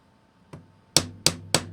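A folding knife's spine is struck against a hard surface during a spine whack lock test, producing one soft knock followed by three sharp, loud, evenly spaced impacts, close up with no talking.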